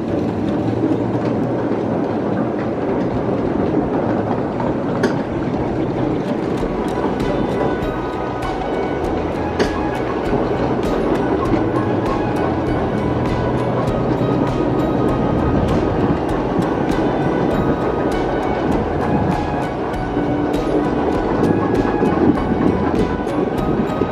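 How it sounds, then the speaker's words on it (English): A ride-on miniature train rolls along steadily with a continuous rumble and rhythmic clicking of wheels over track joints, fairly close, with no talking. "They were nice enough to give us a train ride"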